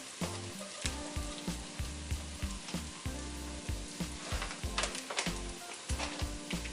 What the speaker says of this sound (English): I'm gonna put them about half a cup of them in here with this onions and celery just to give them a little cook